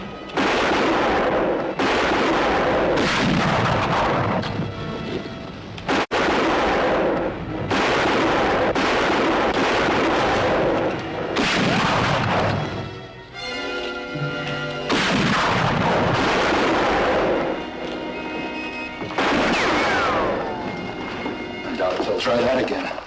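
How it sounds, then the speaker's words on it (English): Gunshots fired through a window, a series of loud booming reports spaced every few seconds with echoing tails, heard alone without talk. "About every minute, fire through the window."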